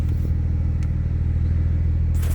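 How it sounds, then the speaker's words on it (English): A Porsche 911 Carrera 4S 992 with a 3.0 turbo engine and PDK gearbox, its engine rumbling steadily at idle, close and moderately loud, with no voices. "Obviously that's the stop start kicking in"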